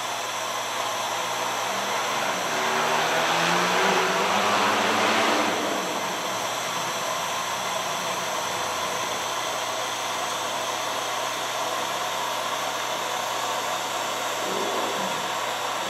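A Harbor Freight micro mini jeweler's torch burns gas with a steady, close, hissing roar. It swells louder for a few seconds early on, then settles back to an even rush with no talking.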